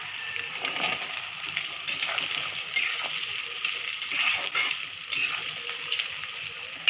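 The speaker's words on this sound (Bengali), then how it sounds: "এবার আমি আলুগুলো দিয়ে দেবো।" Potatoes drop into a hot pan of onion and ginger for a Bengali jackfruit and shrimp curry, giving a steady close sizzling, splattering hiss that continues throughout with faint stirring.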